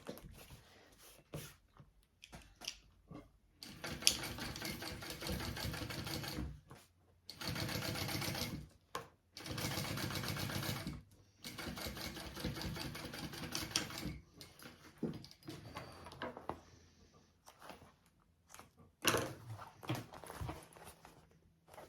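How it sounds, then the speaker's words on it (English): A sewing machine top stitches along the exterior beside a zipper on a phone sling bag, running in several bursts of steady rapid stitching separated by short pauses, close and clear with no talk. "I am going to top stitch along the exterior alongside that zipper"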